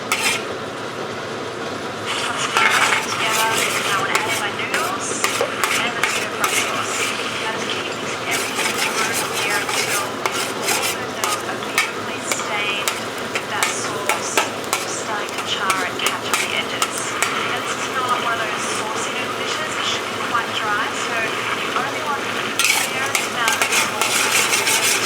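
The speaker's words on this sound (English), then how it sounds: "Scramble the egg," Egg being scrambled in a very hot wok for Penang-style char kway teow, a steady loud clatter of spatula on metal with sizzle running throughout, dense scraping strokes after a quieter opening.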